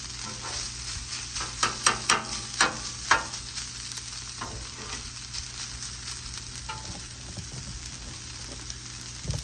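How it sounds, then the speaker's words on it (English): Onions sautéing in a pan for teriyaki chicken and fried rice, a steady crackling sizzle with a run of sharp stirring clacks early on, then an even hiss. "just let them start sweating down to more of a sauteed onion instead of just putting them in raw."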